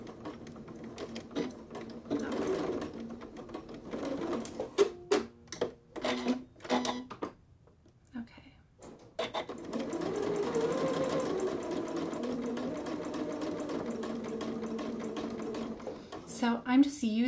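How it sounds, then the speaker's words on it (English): A sewing machine stitches piping into a fabric seam in several short bursts, then runs in a longer steady whir close to the microphone, with a person speaking between the bursts. "I really want to make sure that I stitch an accurate seam allowance and get as close to that edge of the piping as I can"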